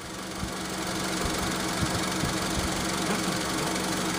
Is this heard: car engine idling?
yes